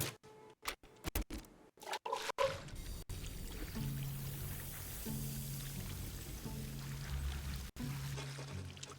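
Water pours in the Reka video game, a continuous rushing flow that settles in after a few scattered knocks and thumps and then runs steadily and fairly softly.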